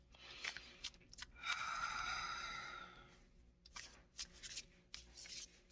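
Tarot cards being shuffled close by, a soft riffling burst lasting over a second, with lighter rubbing and tapping of the deck before and after, quiet and alone.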